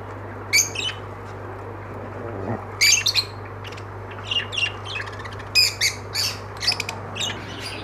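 Caged Bengalese finches and zebra finches give short, bright chirps and squawks in scattered bursts, some close and loud, over a steady low hum, with no talk.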